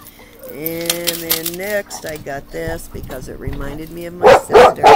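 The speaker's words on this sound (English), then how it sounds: "Sorry, that's the dog." A pet dog barks in a house, two or three sharp loud barks near the end after a person has been talking steadily.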